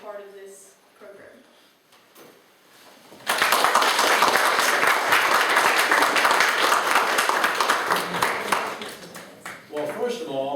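An audience at a candidate forum bursts into sustained applause that runs several seconds and fades slightly, with brief talk before the clapping starts and again as it tails off.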